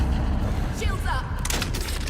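Gunfire in the Dune Awakening video game: a short rattling burst of shots rises late in a brief stretch, mixed under a talking voice and a low game rumble.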